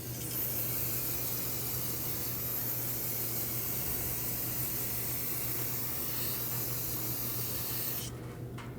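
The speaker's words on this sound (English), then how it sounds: "now we'll use the brake parts cleaner that we used earlier to clean this outer" Brake parts cleaner sprayed from an aerosol can onto the outer surface of a brake rotor on a 2016-2022 Mercedes-Benz GLC300, a long continuous close hiss over a low hum, stopping abruptly near the end.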